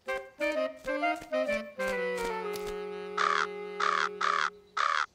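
Crows caw loudly and close, a run of harsh, nasal calls followed by four separate drawn-out caws with brief pauses between them.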